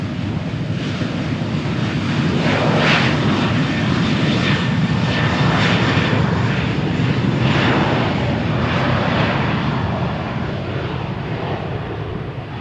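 An airliner rolls down runway 13 at Malaga Airport on a stormy morning, accelerating with a loud, sustained engine roar that holds steady and close for the whole stretch, with no talking.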